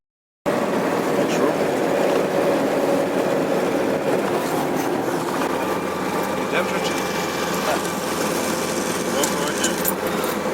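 A ZAZ Tavria car running on a wood-gas generator drives uphill, a steady loud engine drone with road and rattling noise throughout, and someone talks over it.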